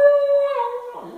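A puppy lets out a short, high, wavering howl that slides downward and breaks into a soft whimper, close and alone.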